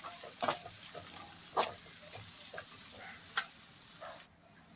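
Beef gravy frying in oil in a pan, with a steady close sizzle and a few brief louder scraping stirs at irregular moments, then a sudden drop to quiet near the end, no talking.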